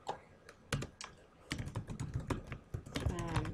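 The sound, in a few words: typing a form title on a computer keyboard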